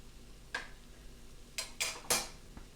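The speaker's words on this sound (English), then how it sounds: "we're going to take the last of our meat here and pull it out and put it on a plate" Clinks and scrapes of cooked beef being lifted out of a stovetop pan and set on a plate while making stew, a handful of sharp metallic taps close by with quiet gaps between them.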